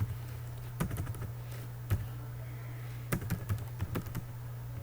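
Typing on a computer keyboard, faint, scattered clicks and short bursts of keystrokes over a quiet low hum.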